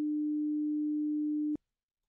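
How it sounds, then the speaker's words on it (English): A pure 300 Hz stereo sine wave synthesized in SuperCollider holds a steady, loud tone for about a second and a half, then cuts off abruptly with a faint click into silence. "Now we could play this now and we'd just get a 300 hertz stereo sine wave."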